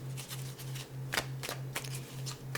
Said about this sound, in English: I will now draw some tarot cards for you.